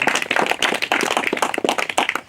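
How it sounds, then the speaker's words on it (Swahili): A church congregation claps for a child during Mass, a dense burst of close, brisk applause from many hands with no talk over it. "Tumpigie makofi huyo mtoto."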